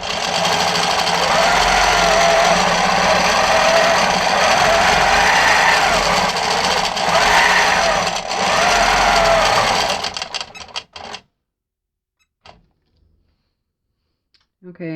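A longarm quilting machine stitches free motion with a loud, steady, rapid clattering whir for about ten seconds, then it stops and leaves near silence with a few faint knocks.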